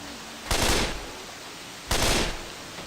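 Gunfire in the zombie shooter Left 4 Dead 2 comes as two loud, short bursts about a second and a half apart over a quiet background.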